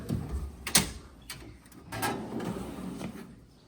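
Toolbox drawers slide open and shut with metallic rattles and clunks, a few sharp knocks followed by a longer rolling slide, close and loud with no talking.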